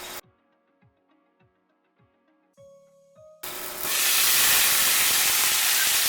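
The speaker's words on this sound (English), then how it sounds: "cover it, that steam will melt that cheese." A splash of water hits a hot pan and bursts into a loud, steady hiss of steam under a lid, melting Swiss and provolone over burgers. A few faint ticks and clinks come just before.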